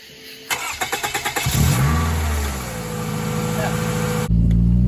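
A Toyota Camry engine, newly refitted with its engine and transmission, cranks in a rapid rhythmic starter chatter, catches, and settles into a loud rumbling idle with rising revs, close by.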